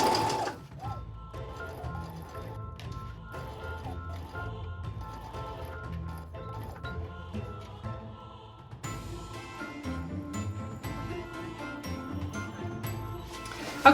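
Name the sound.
sewing machine sewing ribbon border onto Halloween bag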